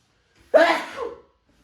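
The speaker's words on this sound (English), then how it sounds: "Why we sneezing so much?" A single sharp sneeze bursts out close to the mic, followed by a short trailing exhale, with quiet before and after.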